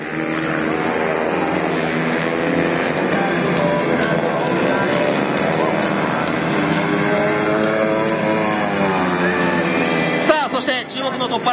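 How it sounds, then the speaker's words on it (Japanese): Four-stroke racing motorcycle engines roar and whine continuously at Shiraito Speedland in a 2007 race, pitch sweeping up and down as machines pass, under excited commentary. "さあエンジンに火が入りまして西山、14番西山リスタートは可能となりました。"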